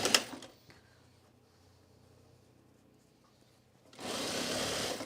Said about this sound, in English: I'm going to sew all these in the perimeter and then close them all at the same time.